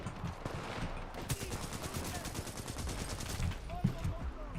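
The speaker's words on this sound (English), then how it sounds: "I hear so many bullets." Rapid bursts of gunfire in the video game Titanfall, a quiet but busy stretch of overlapping automatic shots with sharp cracks and impacts, mixed with a soft background music bed.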